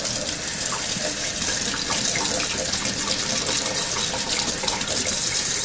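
Hot water runs steadily from a tap into a sink, ready for washing a wool cloth diaper cover, a continuous close splashing rush that holds even throughout with no voices.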